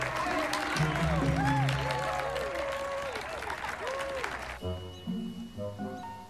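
A studio audience applauds the boys' surprising performance with sustained clapping and crowd noise layered under bright electronic music. The applause cuts off abruptly partway through, leaving the music to carry on alone.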